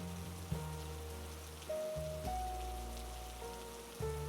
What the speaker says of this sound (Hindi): बाहर बारिश अब भी जोरों पर थी।